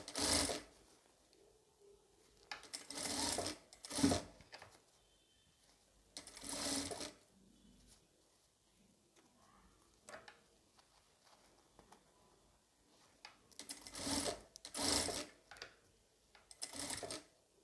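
A sewing machine stitches the edge of a homemade cloth face mask in several short rattling runs, each a second or two long, separated by quiet pauses, close by and with no talking.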